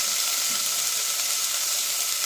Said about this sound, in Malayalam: ആ വഴറ്റിയ സവാളയുള്ളിയിലേക്ക് അരിഞ്ഞു വെച്ചിരിക്കുന്ന ക്യാപ്സിക്കം ഇട്ട് കൊടുക്കാം.